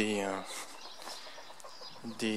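Chickens in a small garden coop cluck and squawk close by, one call opening and another closing the moment, with someone speaking in between.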